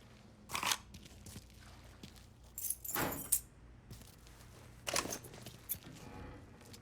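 Keys jangling in the video game Mafia III, heard as several short bursts of close metallic jingling and clinking separated by brief quiet gaps.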